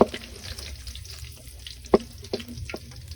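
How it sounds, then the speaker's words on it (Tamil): Curry leaves dropped into hot oil for a Chettinad chicken gravy, crackling and spitting in short sharp pops over a low sizzle, near and fairly quiet with no speech. "இந்த சமயத்தில் வந்து நம்ம வெட்டி வச்சிருந்த அந்த 4 கருவேப்பிலையை வந்து ஆட் பண்ணிப்போம்."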